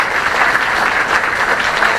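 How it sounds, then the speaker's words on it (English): An audience at a Gold Coast band concert applauds the featured vocalist in a continuous, even roar of clapping from a large crowd. "Let's have another round of applause for our featured vocalist"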